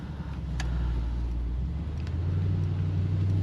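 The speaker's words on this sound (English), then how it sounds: "I love the sound of the V8." Low, steady engine growl of a 2026 Mercedes-Benz GLE 580 V8 heard from inside the cabin while driving at night, a continuous deep rumble that swells slightly.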